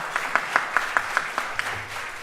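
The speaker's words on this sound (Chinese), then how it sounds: "我们用掌声来感谢他们。" A church congregation claps in thanks to the Sunday school singers at a Mother's Day thanksgiving service, producing a short, fairly steady round of applause with regular clap accents.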